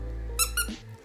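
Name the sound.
squeaky dog toy made from recycled plastic bottles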